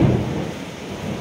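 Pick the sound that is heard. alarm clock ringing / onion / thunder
thunder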